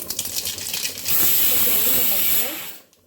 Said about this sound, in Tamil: ஆயில் காஞ்சிச்சு கடுகு போட்டுக்குவோம்